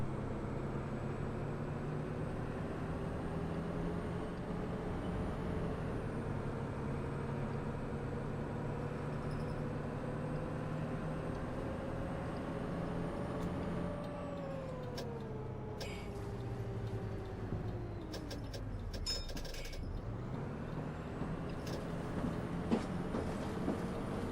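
A Volvo B7TL bus with ALX400 body in the OMSI 2 simulator, Yorkshire map: a steady droning engine with whirring cooling fans, pitch sagging and rising as it changes speed, with a few clicks and knocks partway through, no talk.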